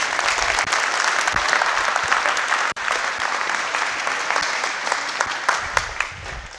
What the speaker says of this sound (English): Can y'all give another round of applause for Corey Moreau and John Henry, please?